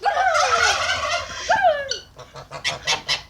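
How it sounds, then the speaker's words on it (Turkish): Loud, nasal honking calls from waterfowl, a few long squawks at first, then a rapid run of short, clipped quacks close by. "Ördek arkadaşlar bunlar."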